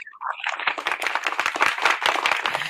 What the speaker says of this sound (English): just go ahead and let's shout out and give Pastor Ray and Rise Up Church a round of applause